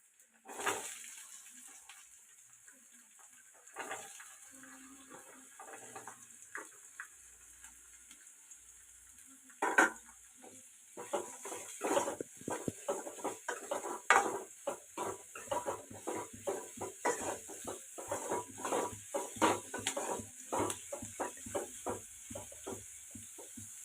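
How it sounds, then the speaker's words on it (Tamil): Potatoes with onion and curry leaves stirred and sautéed in a pan: a soft sizzle under quick scraping and tapping strokes that become busier and more rhythmic partway through. "இது கொஞ்சம் நல்லா வதக்கிக்கலாம். வதக்கிட்டு இருக்கோம்."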